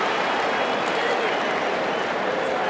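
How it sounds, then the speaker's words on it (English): A baseball crowd in Seattle gives a standing ovation for Baltimore Orioles shortstop Cal Ripken, with dense applause and cheering held steady throughout and no clear talk rising above it. "he's getting a standing ovation here in Seattle"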